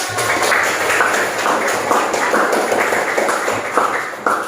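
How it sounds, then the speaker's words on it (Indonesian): A class of young children clapping their hands in a classroom, a fairly steady run of loud, slightly uneven claps that continues without a break. "Tepuk tangan dulu untuk"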